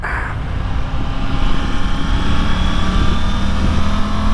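A 2024 Triumph Tiger 900 GT Pro motorcycle engine catching and settling into a loud, steady, close idle after a brief starter whir, with no talking.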